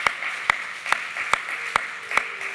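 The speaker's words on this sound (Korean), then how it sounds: "우리 성도님들 큰 박수로 축하해 주시고 축복해 주시기 바랍니다" A church congregation claps in steady unison during a Sunday service, the sharp claps falling about twice a second over a soft room murmur.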